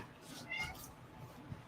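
A cat meows briefly at a door, faint and close, with one or two soft calls and a person talking quietly nearby.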